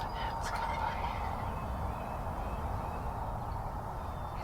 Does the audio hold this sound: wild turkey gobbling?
yes